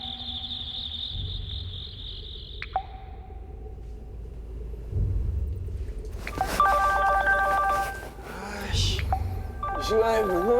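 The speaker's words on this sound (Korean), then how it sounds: "핸드폰 벨 소리가 요란하게 울리는 겁니다" A cellphone ringtone rings loudly in a horror story sound effect: an electronic repeating warble of chirping tones builds in over the last few seconds, preceded by quieter tonal effects and low rumbling ambience.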